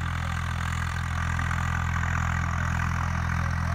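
A tractor engine runs steadily with a low, constant drone while hauling a harrow during a village field trial, holding an even idle-like rumble for the whole stretch with no voices.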